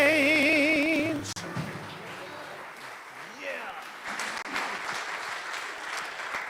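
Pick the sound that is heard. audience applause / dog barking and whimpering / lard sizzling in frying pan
audience applause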